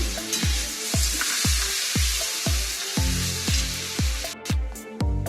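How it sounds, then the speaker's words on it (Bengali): Chopped onions fry in hot oil toward a reddish brown, a constant bright sizzle punctuated by a regular series of sharp knocking stirs, about two each second, close and loud. "পেঁয়াজটা আমি একটু লাল লাল করে ভেজে নেব"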